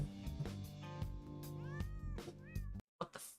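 A cat meows repeatedly in a series of drawn-out, rising and falling calls over a steady tonal background, with an abrupt cutoff near the end.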